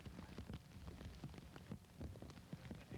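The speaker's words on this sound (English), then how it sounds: "as long as the rain's around" Rain at an outdoor disc golf tournament at Winthrop University in Rock Hill, a constant faint patter of drops landing on surfaces, with scattered soft taps and no voices.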